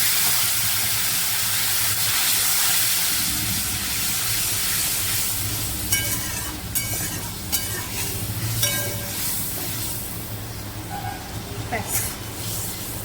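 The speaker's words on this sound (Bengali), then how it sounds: "এবার আমি এর মধ্যে দিয়ে দেবো পরিমাণ মতন জল" Water is poured into hot oil in a cooking pan for a fish curry, setting off a loud, broad hiss and sizzle that settles into bubbling with scattered clicks. A voice talks over part of it.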